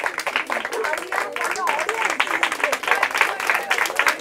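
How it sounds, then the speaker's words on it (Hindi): An audience at a Hindi quiz competition claps steadily throughout, with a presenter's voice talking over the applause the whole time. "जोरदार तालियां ऑडियंस के लिए।"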